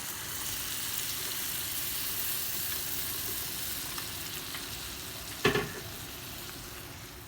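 Blended tomatoes hit a hot pan for eggplant moussaka with beef mince, giving a steady close sizzle and frying hiss, then one sharp clattering knock near the end.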